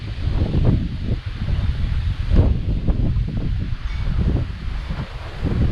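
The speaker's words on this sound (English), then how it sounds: "The breeze, the wind." Outdoor breeze at a dive resort in Dauin gusts steadily across the microphone, a loud, continuous rumbling whoosh with rustling surges throughout.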